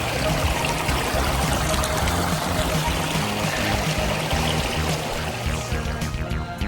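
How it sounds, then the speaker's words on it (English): A small, cold stream on an Arizona hike trickles and splashes steadily around feet dipped in the water, a loud, continuous close-up babble with no talking. "we got to a little stream with cold water, and I'm putting my feet in it"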